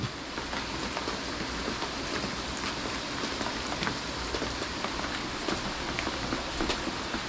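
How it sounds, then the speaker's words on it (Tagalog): Heavy rain pours steadily, a dense hiss of drops pattering on surfaces with no one speaking. "Lakas po ng ulan."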